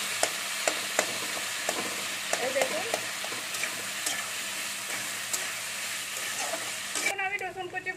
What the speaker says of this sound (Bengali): আমি এবার পেঁয়াজ কুচিগুলো দিয়ে দিচ্ছি। আলুর সাথে পেঁয়াজগুলো ভাজা হয়ে গেছে